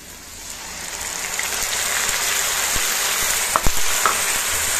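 Spice masala frying with onions in oil for a Bengali-style fish curry, a rising crackling sizzle with a few sharp pops and scrapes of stirring near the end.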